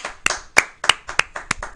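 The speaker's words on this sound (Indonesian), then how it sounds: "Tepuk tangan" A small group claps hands in loose, uneven bursts, about six sharp claps in under two seconds, close and fairly loud, with no talking.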